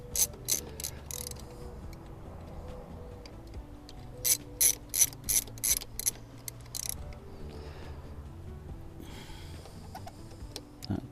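Ratchet tightening the pinch bolts on a fork brace fitted to a third-generation KLR650 motorcycle, heard as two quick bursts of rapid clicking separated by a pause, fairly close over a quiet room background.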